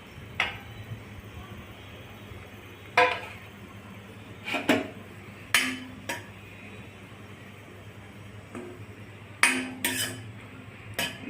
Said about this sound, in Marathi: आता आपण खोबर भाजून घेत आहोत. सोनेरी कलर येईपर्यंत भाजून घेणे.